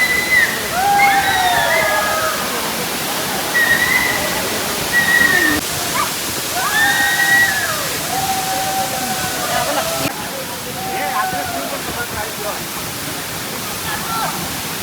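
A waterfall on a forest trek gives off a loud, steady roar of rushing water that fills the whole stretch, with faint voices or calls now and then rising above it.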